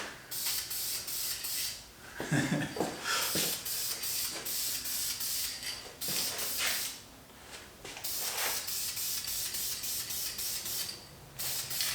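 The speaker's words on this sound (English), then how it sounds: "Key to spray painting is to get it when it's painted when the metal's still nice and hot" Long hissing bursts of an aerosol spray paint can on hot, freshly welded metal, repeated in steady passes with short gaps between them, close up and fairly loud.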